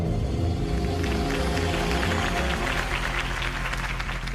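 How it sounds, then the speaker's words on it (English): Steady applause from a large crowd in a video game, a dense wash of clapping that holds at an even level throughout. "could have heard that applause"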